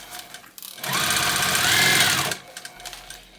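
A sewing machine stitching a bag with a lengthened stitch runs in one steady whirring burst of about one and a half seconds, close and fairly loud, with soft handling clicks before and after.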